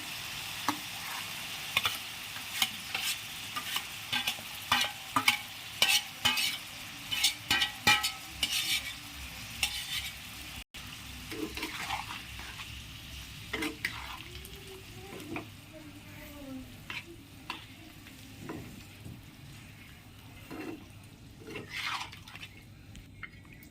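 Ginger, garlic and onion paste fries in a pan with a soft background sizzle, broken by repeated sharp clanks and scrapes of a spatula stirring against the metal, which later grow sparser and quieter.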